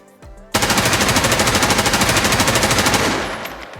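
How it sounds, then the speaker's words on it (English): An M4A1 rifle in the video game Escape From Tarkov fires a long, steady fully automatic burst of rapid, evenly spaced loud shots, close and alone, ending with a fading echo. "when I shoot this, I am not going to be moving my mouse"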